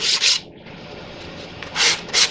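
A cloth or hand rubs briskly along a machined wooden tongue-and-groove joint on a Gerstner 35A/35B kit chest, with two short loud scrubbing bursts at the start, a quieter stretch, then two more at the end, close up.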